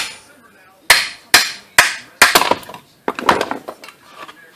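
A hammer strikes a punch in sharp metallic blows to remove part of a VDO blower motor on a 2001 Quest: four spaced hits, then a quicker cluster of lighter taps, close and loud.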